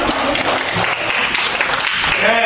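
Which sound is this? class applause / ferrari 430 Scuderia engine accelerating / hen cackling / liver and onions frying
class applause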